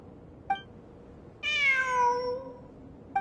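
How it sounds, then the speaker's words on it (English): A cat meows once in Genshin Impact, a drawn-out, sliding cry rising out of a low game ambience, preceded and followed by short faint chirps, with no talking. "It really is a cat."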